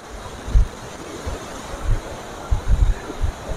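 Steady rushing water of Selosa Waterfall in Tabanan, Bali, roars continuously, with low gusty rumbles of wind buffeting the microphone now and then.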